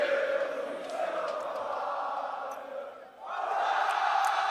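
A French crowd cheers at the 2015 League of Legends World Championship during an Origen match, a loud, sustained roar from a large arena that dips briefly and then surges again.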